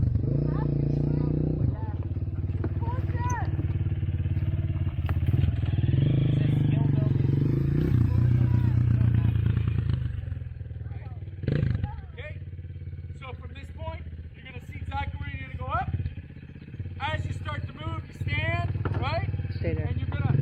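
A motorcycle rumbles slowly up a first-gear climb, its engine steady and fairly close for the first half, then fading under people talking and clattering.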